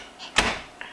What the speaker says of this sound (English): I thought it would take you to be a teenager to slam the door in my face.